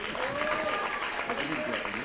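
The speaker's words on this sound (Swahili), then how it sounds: "Makofi." An audience at a public meeting for people living with disabilities at Ngong Racecourse claps in a steady, dense wash of applause while a voice talks over it.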